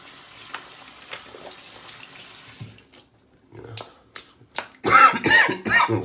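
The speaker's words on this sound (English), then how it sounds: "So I'm gonna run that under some water real quick." A Simpsons Wee Scot shaving brush rinsed under a running tap, with a steady splashing water stream that starts up near the end and turns loud and close.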